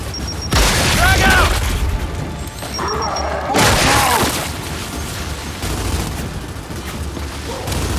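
A thrown grenade explodes in the Gears 5 game amid chaotic combat, with heavy booming blasts, crashes and debris thuds layered over a continuous rumbling battle bed, loud and close.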